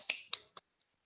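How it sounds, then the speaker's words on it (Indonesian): A few quick claps in a primary-school classroom sound as three sharp, close claps in rapid succession, each dying away fast and followed by near silence. "Tepuk tangan."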